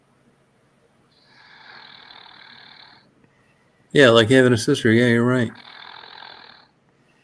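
A tired woman asleep at a party snores in two long, soft, droning breaths, faint and close, with people talking loudly between them.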